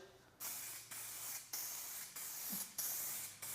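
Second, heavier coat of aerosol spray paint going onto a 2022 Subaru WRX: five loud, steady hissing bursts of about half a second to a second each, separated by short pauses, close by with no talking.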